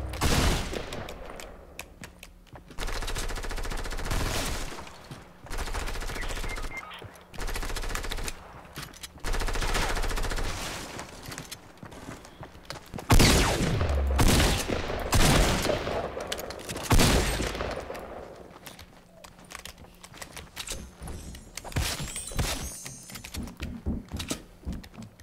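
Rapid gunfire bursts from a shooter game played on Xbox with keyboard and mouse, loud, clustered volleys with brief gaps, alongside clicking and game effects, with no talk.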